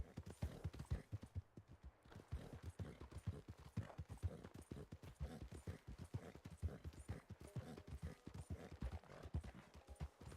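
Horse hooves clip-clop in a steady, even rhythm while riding in Red Dead Redemption 2, continuous and fairly close, with faint ambient game sound underneath.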